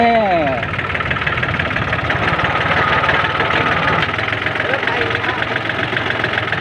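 A tractor engine plowing a rice field, a steady close mid-pitched idle-like rumble with a knocking throb running the whole time, with someone talking briefly at the start.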